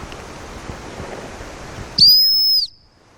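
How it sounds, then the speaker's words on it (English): One sharp, loud stop whistle, blown close during dog retrieve training, sounds for about half a second after a stretch of quiet outdoor background noise. "I'm not bothered that she ignored the stop whistle"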